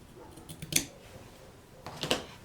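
Scissors snip notches into fabric for a sewing project, two quiet clusters of crisp close-up cuts separated by a short pause, with no talking.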